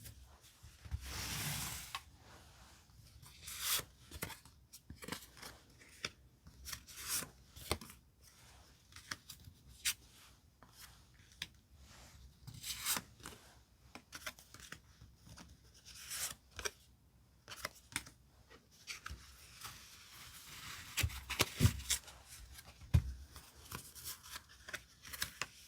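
Tarot cards are shuffled and picked from a deck in soft, irregular bursts of rustling, riffling and sliding, with light taps, close and quiet, and no voice over them.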